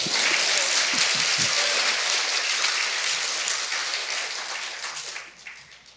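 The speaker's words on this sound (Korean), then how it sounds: "보통 이러면 박수가 나옵니다." Loud, crowded applause from a congregation at a Methodist church Sunday evening service, many hands clapping in a thick wash that gradually tapers off and thins out near the end.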